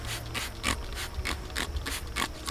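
A plastic spray trigger on a floor mat cleaner bottle pumped repeatedly, about eight quick rhythmic squirts with a scratchy mechanical click, close up and steady.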